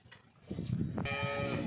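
A cow moos loudly and close by, one long drawn-out low call with a rough, harmonic tone rising out of faint background noise.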